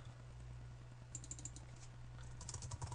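Rapid, steady keystrokes on a computer keyboard while filling in a website contact form, close and moderately loud over a constant low hum, with a brief flurry of sharper clicks toward the end; no one speaks.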